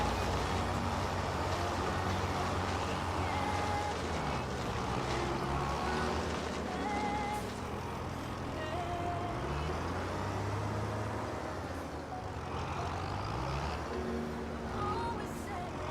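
A mulcher grinds through crops in the Farming Simulator 22 video game, a continuous rumbling machine drone with shifting engine tones that runs at moderate level under a faint background.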